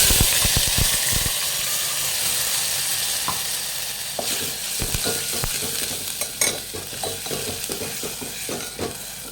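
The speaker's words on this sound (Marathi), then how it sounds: "छान मस्तपैकी फ्राय होऊ द्यायचे आपल्याला" Onion-coconut masala sizzles and fries in hot oil in a pot for a Maharashtrian amti tempering, a steady loud hiss with clicks and scrapes of a spoon stirring through it, no talking.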